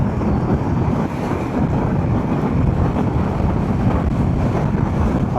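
Strong wind buffets the microphone during a ride, a dense, constant roaring rumble that stays loud and unbroken throughout with no voices.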